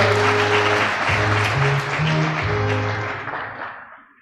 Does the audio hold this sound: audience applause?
yes